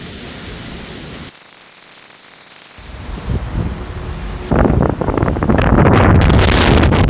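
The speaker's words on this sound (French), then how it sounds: "Dehors, il vente beaucoup." Loud, broadband wind buffeting outdoors in Honolulu, Hawaii, dropping briefly quieter before gusting back harder and roaring louder toward the end.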